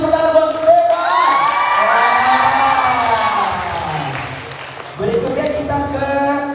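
At a champions meet-and-greet event in Bali, a crowd cheers and whoops for Stefan, with shouting voices rising over clapping that swells, dips briefly and picks up again.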